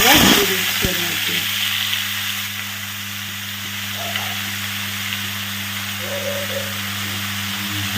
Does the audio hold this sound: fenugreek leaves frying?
yes